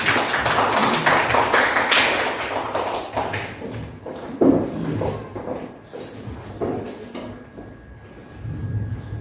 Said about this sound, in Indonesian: Beri tepuk tangan yang meriah bagi kita